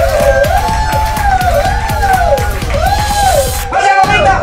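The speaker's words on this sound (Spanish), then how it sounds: "Tenemos que aplaudir hasta que se apague la vela." A family claps steadily at home to celebrate reaching one million Facebook fans, keeping it up until a candle goes out. Loud, rhythmic hand claps run under excited whooping and shouting voices throughout.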